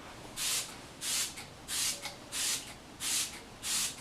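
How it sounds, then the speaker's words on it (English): Six short bursts of fine mist spray, evenly spaced with brief pauses between, close and fairly quiet with no talking. "So we're just gonna go ahead and spray my face."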